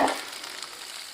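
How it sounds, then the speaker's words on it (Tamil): Peeled shallots and chopped onions sizzle and crackle in hot oil for sambar, a steady frying hiss just after an opening burst, with no talking. "இது எல்லாத்தையும் நல்லா வதக்கிடலாம்"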